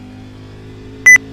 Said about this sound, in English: it beeps if I get to the speed limit in here